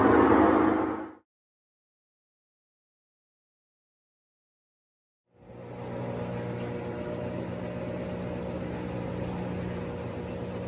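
A brief burst of noise, then several seconds of silence, before a Kenmore washing machine with a failing bearing starts a steady, whirring maximum-spin drone that holds evenly.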